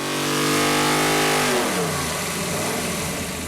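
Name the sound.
GM 572 crate engine on dyno, race fuel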